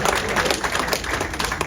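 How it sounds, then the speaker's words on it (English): Brief, scattered clapping from a small audience at a golf hall of fame induction, close and somewhat uneven, with faint background murmur. "Yeah, you can clap. We can clap for this."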